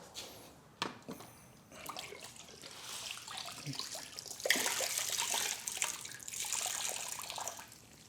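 No-rinse wash solution sprayed onto a black Infiniti Q50, with soft continuous hissing and watery spray bursts, fairly close and moderately quiet, with no talking.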